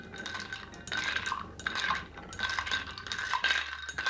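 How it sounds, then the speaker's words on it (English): Ice rattles and clinks against a glass as a cocktail is stirred, bright irregular clatters and scrapes coming in uneven bursts, close by and fairly quiet, with no talking. "we're just going to stir that in the glass"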